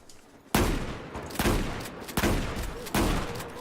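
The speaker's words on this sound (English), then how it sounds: "So our next troll weapon is an explosive shotgun." Four heavy blasts from an explosive shotgun in Battlefield 5 land at roughly even intervals, each a loud, close boom with a crackling tail that fades before the next shot.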